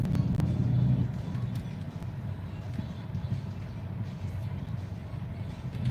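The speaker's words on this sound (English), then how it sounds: "A few bikes going past." Motorbikes pass in busy traffic on the Las Vegas Strip, a low, rumbling engine roar that is loudest at the start and then settles into a steady traffic rumble.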